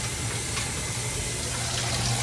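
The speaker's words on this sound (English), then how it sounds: "Fill up the washing machine. Warm water, deep clean," A washing machine fills with warm water on a maximum deep-clean setting for cotton and microfiber carpet-cleaning bonnets, giving a steady, close rushing gush with a low hum beneath and no talking.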